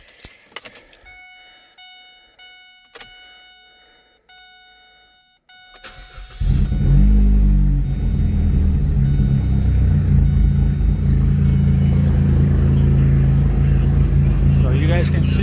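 Keys jingle and chime quietly, then a Chevy Cruze engine running on E85 cranks and catches at about six seconds, settling into a loud, rough, uneven idle with a steady low rumble.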